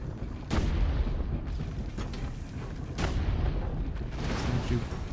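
Cannon fire in Assassin's Creed Brotherhood, heavy booms landing roughly once a second or so across a dense, rumbling battle din, with a few sharper reports standing out near the start and middle.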